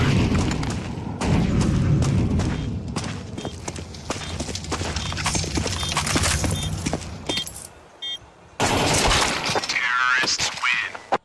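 An incendiary grenade thrown during a Counter-Strike 2 round on B site, with loud bursts, clatter and booms packed into a busy stretch of game noise, a brief dip near the end, then a swirling burst.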